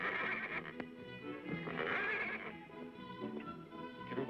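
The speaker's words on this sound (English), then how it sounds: "It's the mare that leads the wild horses." A wild horse mare neighs and whinnies loudly and close by, with a long shrill call followed by further whinnies and a few faint hoof clops, and no talking.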